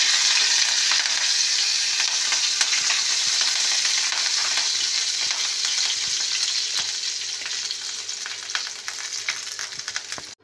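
Ginger and green chili frying in hot oil in a wok, a bright, crackling sizzle close up that slowly settles, with occasional stirring clicks and no voices.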